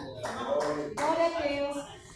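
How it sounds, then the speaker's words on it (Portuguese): A church congregation claps for Jesus during a worship service, bursts of close hand claps rising under a loud speaking voice. "Bem alegre as palmas para Jesus."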